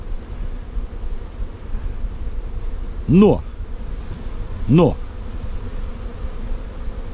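Honey bees at an apiary among blooming acacia during a nectar flow, with colonies in swarming condition, give a steady, dense hum throughout. A voice speaks over it briefly.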